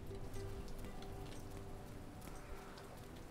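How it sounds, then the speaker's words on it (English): Steady rain patters and hisses in a survival video game, a soft continuous wash of droplets with a faint low hum beneath. "oh, it's still raining anyway"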